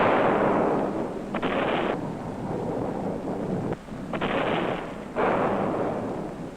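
Battle sound effects under a narrated 1950s account of a fort under bombardment: heavy rumbling blasts and bursts of gunfire swell and fade in waves, loud and dense with wind-like roar beneath.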